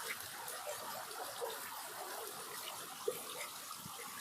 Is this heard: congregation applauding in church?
no